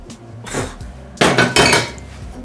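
A heavy pan of clams clatters loudly in a kitchen as the clams are poured out, with two sharp metallic bursts of rattling shells and metal separated by quieter scraping.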